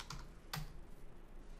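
A few brief key presses on a computer keyboard, two distinct clicks close by, then quiet room tone.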